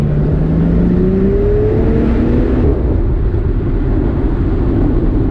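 A Morgan Supersport's engine accelerates in second gear through a tunnel. It is loud and close, with a rising droning tone that swells steadily under heavy roaring noise.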